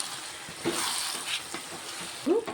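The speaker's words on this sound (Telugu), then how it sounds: "ఇప్పుడు చికెన్ వేసుకున్నానండి కలిపేసుకున్నాను" Chicken frying in a pot under a soft, steady sizzle, with a few stirring scrapes and knocks of a utensil against the pot, heard close and briefly, with no talk.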